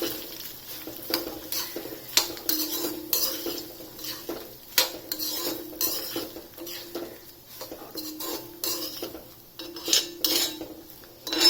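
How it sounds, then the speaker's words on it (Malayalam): A utensil stirs grated coconut and tamarind through the pan for ivy gourd chutney with the heat switched off, giving repeated close scraping and clinking strokes in an irregular rhythm, with no voices. "ഈ തേങ്ങ ഒന്നിട്ട് ഈ പുളിയൊന്ന് ചേർത്ത് ഇളക്കി വയ്ക്കാം."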